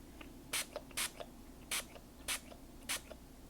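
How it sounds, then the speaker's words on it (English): Aerosol spray paint hisses onto a snow globe in five short bursts, each about a quarter second long and spaced out, with faint clicks and small handling sounds in between. "Then I'm going to spray the top with the other color."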